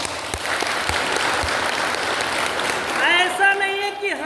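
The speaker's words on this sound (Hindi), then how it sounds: "जोरदार ताली।" Loud, dense applause from a yoga class group in Aurangabad, steady for about three seconds before a tonal voice or music rises over the fading clapping.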